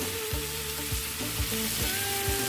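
Spice paste and chopped tomato sizzling in a pan for aloo dum, a dense constant hiss with a soft stir or scrape recurring about every half second, no voices.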